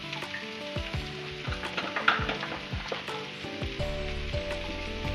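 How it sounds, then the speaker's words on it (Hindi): Spices frying in a pan for mirchi vada give a steady soft sizzle, with clinks and scrapes of stirring throughout. "थोड़ा सा फ्राई कर लेते हैं।"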